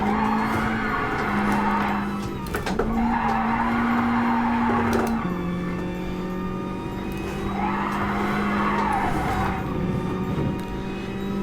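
Car tyres skid and squeal steadily during drifting on sports tyres in a racing video game, with a continuous engine drone. The squeal rises and falls in long sweeps and drops out briefly around two distinct gaps.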